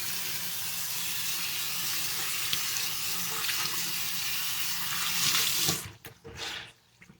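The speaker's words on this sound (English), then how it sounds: "and then flush again. I flush again." Toilet being flushed at close range, a steady loud rush of water lasting several seconds before cutting off abruptly into gurgles and drips.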